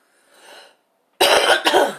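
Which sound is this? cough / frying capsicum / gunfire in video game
cough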